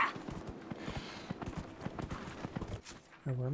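Quick, uneven horse hoofbeats clatter at a gallop in Dragon Age: Inquisition, fairly soft, ending with a brief tonal hum.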